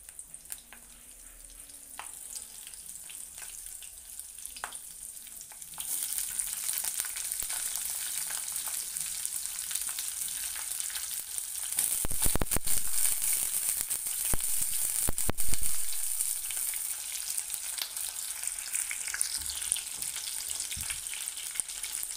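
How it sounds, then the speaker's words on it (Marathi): Stuffed green chillies shallow-fry in a small amount of oil, a steady close sizzle that swells after a few seconds with sharp spattering crackles, continuing without any talk. "आपण ही तळणार नाही आहे तर भाजणार आहोत, त्यासाठी आपण कमी तेल घालायचं आहे।"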